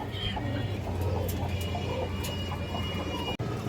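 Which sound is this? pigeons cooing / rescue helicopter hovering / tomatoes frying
pigeons cooing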